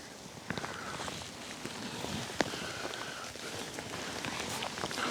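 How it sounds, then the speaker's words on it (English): Steady rain falls on a river during a wet barbel-fishing session on the Avon, a dense hiss with scattered sharper patters and drips close by throughout. "Somehow it's managing to brighten up and rain more heavily all at the same time."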